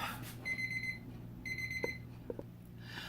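A kitchen alarm clock goes off while chicken is being cooked, two bursts of steady high electronic beeping with a pause between them, over a low hum and a few soft clicks.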